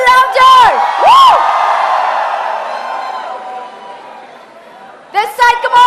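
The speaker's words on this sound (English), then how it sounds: "cheer a little louder" Audience at a hospitality convention cheering and whooping for a celebrity chef, with loud rising whoops and shouts at the start and again at the end over a sustained crowd roar.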